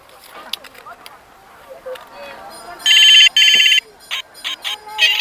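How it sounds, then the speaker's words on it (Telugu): A toy mobile phone bought at a temple festival plays a shrill electronic ringtone in two loud bursts, with chirpy beeps before and after, amid people talking and festival bustle. "మొబైల్స్ లేని టైంలో మాకు ఇదే మొబైల్."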